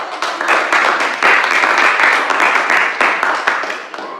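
Classroom applause during a religious education lesson, steady rapid clapping from a group of students lasting several seconds at fairly close range, with no talking over it.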